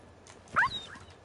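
Dogmeat, the dog companion in the video game Fallout 4, lets out a short, faint whimper after a fall, a single brief whine over low game background.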